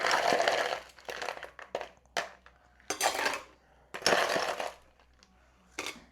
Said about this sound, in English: we're going to add ice.